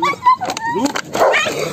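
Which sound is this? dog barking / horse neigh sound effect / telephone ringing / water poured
dog barking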